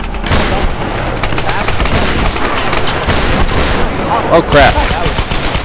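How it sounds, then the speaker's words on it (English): Rapid gunfire and shooting bursts from a Tomb Raider multiplayer match rattle continuously and loudly, with a heavier blast near the end, while a player talks over the action. "I'm being shot at!"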